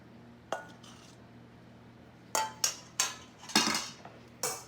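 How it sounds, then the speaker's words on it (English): A metal ladle clinks and scrapes against a dish while smoky filling goes into stuffed sweet potatoes, topped with smoked gouda. A single knock comes first, then a run of sharp, close clinks follows at irregular intervals over a quiet kitchen hum. "ladle a little bit at a time in each one"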